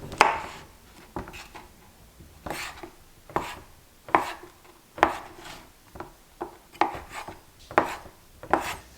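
A knife chops through a 12-ounce block of paneer on a board, cutting it into cubes with about a dozen crisp, evenly spaced strokes, close and distinct against a quiet background.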